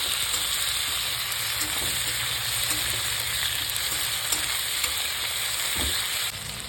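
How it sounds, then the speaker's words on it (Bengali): Tomatoes fry in oil in a pan for a fish-head moong dal, a steady sizzle with regular stirring scrapes and a few sharper clinks near the end, close and without voices. "টমেটো দিয়ে ভালো করে নেড়ে নেব।"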